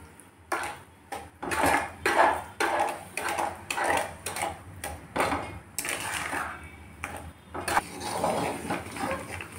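Seven cup sweet with coconut being stirred in a pan, irregular scraping and clinking of a utensil against the metal, close and fairly quiet, repeating in uneven strokes.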